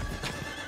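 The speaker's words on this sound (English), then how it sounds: "And there's apparently an NPC on a horse." A horse neighs in the Diablo 4 video game, one short whinny with a dense, loud sound over steady game ambience.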